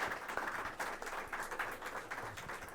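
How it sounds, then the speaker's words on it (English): Brief, faint applause for a panel at a discussion event, a soft, muffled patter of clapping from a small audience heard from a distance for a few seconds. "please give our panel a round of applause"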